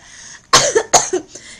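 A woman coughs twice in quick succession, close and sharp, each burst trailing off into a short raspy tail.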